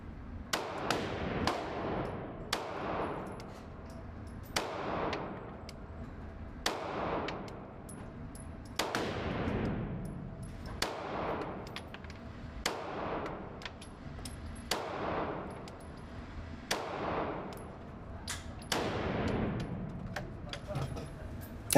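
Sig P226 pistol firing single rounds at an indoor range target, sharp loud shots spaced roughly two seconds apart, each with a ringing decay, about eleven in a steady slow rhythm.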